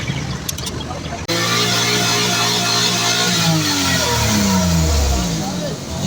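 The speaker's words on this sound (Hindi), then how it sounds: "गाड़ी माशाल्लाह बेहतरीन रेस दे रही है" Car engine fitted with a freshly tuned EFI system, revving hard after a short quieter stretch, its pitch rising and falling in sweeping runs, close and loud, sustained to the end.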